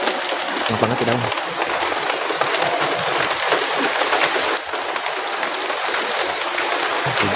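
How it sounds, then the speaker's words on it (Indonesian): Steady rain pours down at an old hydroelectric power plant site in Indonesia, a dense, even hiss that fills the whole stretch without pause, with faint low bumps and movement underneath. "Hujan."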